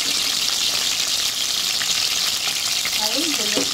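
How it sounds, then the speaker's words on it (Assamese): Onion frying in refined oil in a pan while making a paneer dish, a loud, steady dense sizzle that runs without a break, with a few faint clinks of a utensil stirring near the end. "আমি ৰিফাইণ্ড অইল দিলোঁ আমি পিঁয়াজটো দি লৈছোঁ ফ্ৰাই কৰি ল'ম"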